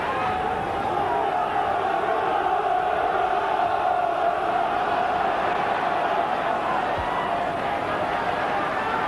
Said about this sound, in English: the QPR fans are making plenty of noise